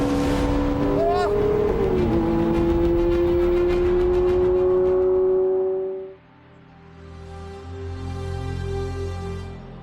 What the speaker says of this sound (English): Those exhausts are only waste disposal units, but I've heard less tuneful symphony orchestras